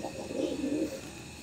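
A large Kaldum pigeon, an old-style breed, gives a soft low coo up close, a single rolling call over quiet background.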